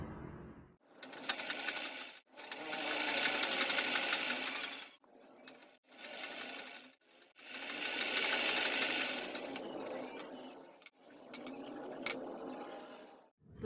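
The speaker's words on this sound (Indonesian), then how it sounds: "Ini bagian bawahnya kita jahit keliling terlebih dulu." Electric sewing machine running in long bursts with short pauses between, stitching around the bottom hem of a child's dress, steady and fairly close, no talk.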